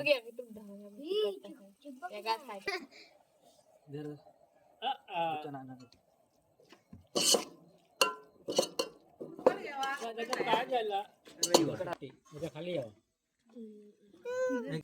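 Dishes, pots and pans are scrubbed and washed, with intermittent clinks and clattering bursts mixed among several people chatting close by.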